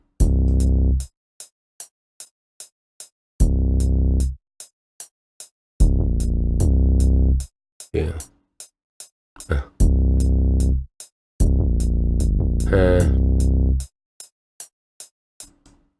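An 808 bass pattern in an FL Studio beat: booming sustained bass notes alternate with a steady rhythm of sharp ticking hi-hat hits, loud and upfront, with a brief spoken word in the middle.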